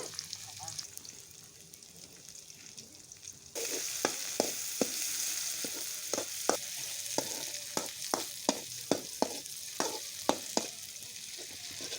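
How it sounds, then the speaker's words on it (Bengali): Spice paste and chopped garlic sizzle in a pan and grow louder partway through, with a spoon scraping and stirring in a steady rhythm of sharp strokes over the continuous frying hiss. "পেস্টটা একটু ভেজে নিয়ে আমি রসুন কুচি দিয়ে দিছি এখন একটু নাড়িয়ে নেব"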